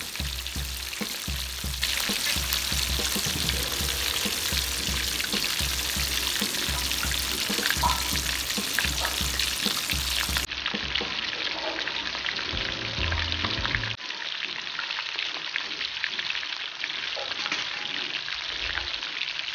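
Chicken frying in hot oil at a fried chicken vendor's stall, a loud, steady crackling sizzle that carries throughout and eases slightly toward the end.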